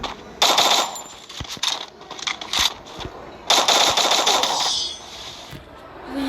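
Rapid automatic gunfire from an XMB gun in a shooting video game, coming in two loud sustained bursts separated by scattered single shots and clicks.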